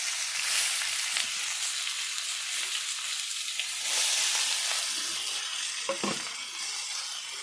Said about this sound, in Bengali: সর্ষেটা ফুটে গেল চাল কুমড়োটা ছেড়ে দিলাম